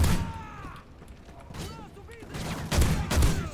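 Light machine gun fire in Modern Warfare 3, heard as rapid, fairly close shots mixed with game effects and rising toward the end, while someone talks over it.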